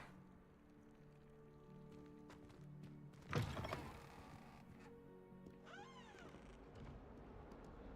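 A cat in the video game Hogwarts Legacy gives a single rising-and-falling meow near the end. Before it come faint background game ambience and a sudden soft thump, all quiet overall.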